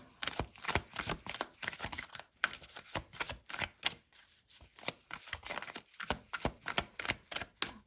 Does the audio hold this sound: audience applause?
no